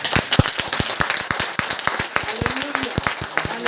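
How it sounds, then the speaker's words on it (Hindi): Members of a church congregation at Sunday prayer clap in a quick, fairly even rhythm of distinct hand claps, close and steady throughout, with a faint voice underneath. "अब परमेश्वर के लिए तालियां हो जाएं।"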